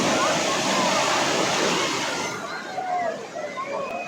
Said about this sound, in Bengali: দেখুন ঢেউ দেখুন